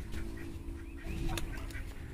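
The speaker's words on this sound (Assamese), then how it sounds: "আমাৰ লোকেল হাঁহ কিছুমান কেম্বেলো আছে এইটো কেম্বেল প্ৰজাতি কেম্বেল" Campbell ducks of a local farm flock quack a few times at moderate distance over a steady low hum and background noise.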